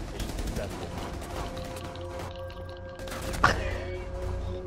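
Gunshots in the Tom Clancy's Rainbow Six video game, a few scattered shots with one sharp, louder crack near the end, mixed with in-game ambience and low rumble.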